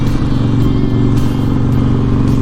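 A motorcycle engine drones steadily while cruising along, a loud, close, even low rumble holding constant throughout without talk.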